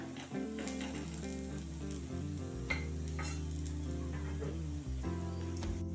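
A chapati paneer sandwich pizza roasts in a pan, giving a soft steady sizzle that sits beneath prominent background music.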